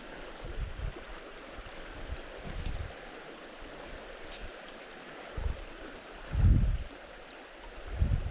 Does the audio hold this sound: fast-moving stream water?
yes